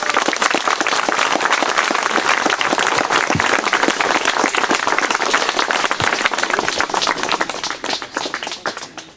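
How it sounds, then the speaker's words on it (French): A crowd at a memorial tribute ceremony for a general in Pourcharesses, Lozère, applauds loudly, with dense sustained clapping close by that thins and tapers off near the end. "Je demande de les applaudir tous."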